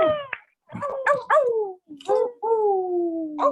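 A group of people at a launch party in Los Angeles imitate a collective howl at the moon, voices rising and sliding in several drawn-out, overlapping wolf-like calls, close and fairly loud.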